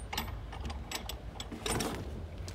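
The fuel cap of a Dodge Demon is unscrewed with a steady run of close, rapid ratcheting clicks that lasts throughout, no voices over it.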